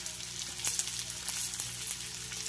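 Fish frying in oil over a low gas flame, a constant close hiss and crackle with small pops and no voices.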